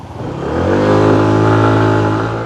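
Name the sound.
Daytona Virtus 125 scooter engine riding off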